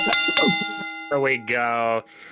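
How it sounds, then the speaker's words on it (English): A bell rings after a wrestling pinfall: a quick pair of bright dings, then two longer ringing tones with a sustained metallic shimmer, close and loud, with no talk over it. "Ring the bell."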